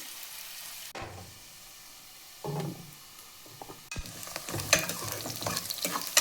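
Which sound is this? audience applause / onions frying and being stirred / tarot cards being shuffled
onions frying and being stirred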